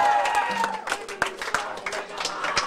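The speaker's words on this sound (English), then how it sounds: "let's have some applause for me" Audience at a live punk show in Woodstock, New Brunswick, scattered claps and crowd noise under a distant talking voice, fairly quiet and patchy rather than a full ovation.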